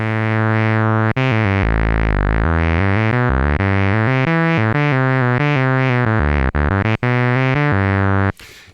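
IK Multimedia Uno synthesizer playing a driven, distorted tone with LFO modulation, a loud continuous buzzy line whose pitch steps and wobbles for about eight seconds, with brief dropouts, alone without talk.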